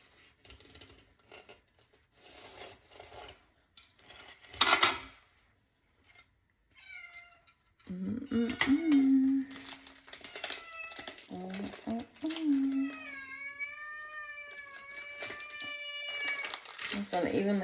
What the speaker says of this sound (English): Listen, even the cat wants some.